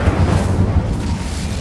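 Incendio fire spell blasting in Hogwarts Legacy, a loud, deep rumbling burst of flame that sustains for well over a second, heavy and booming throughout.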